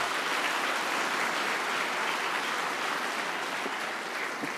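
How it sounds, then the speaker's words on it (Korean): Sustained, even applause from an audience at a church winter camp evening gathering, a dense wash of many hands clapping at moderate distance with no talk over it. "박수 한번"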